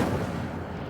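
An Incendio fire spell cast in Hogwarts Legacy bursts out as a single deep, booming whoosh that quickly fades over about a second.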